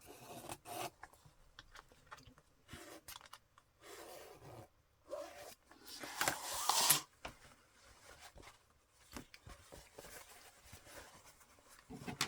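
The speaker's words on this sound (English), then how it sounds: "Instead of using my Sharpie, I'm just going to use a pencil." Pencil dragging over fabric, marking a cutting line for a DIY yo-yo book weight, heard as soft rubbing and rasping strokes in short irregular bursts. One busier, brighter scratch comes near the middle, and no one speaks.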